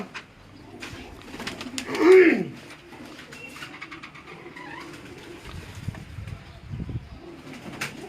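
On a rooftop pigeon loft, bazi high-flying pigeons coo in low, rolling calls, with one louder coo standing out. Faint voices and light rustling run beneath them.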